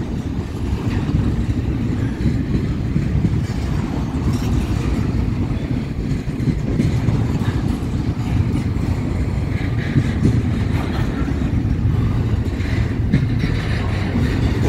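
A Florida East Coast Railway freight train rumbles past steadily and loudly, with a continuous heavy low roar and wheel noise holding at an even level throughout.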